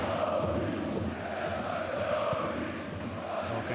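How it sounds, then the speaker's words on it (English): Dinamo Zagreb fans at a Champions League football match against Chelsea make a dense, steady roar of crowd noise and chanting, far off and continuous throughout. "Zagreb fans making plenty of noise"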